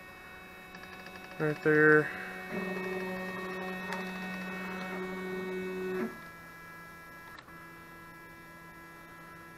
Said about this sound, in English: I'll show you that the machine is actually jogging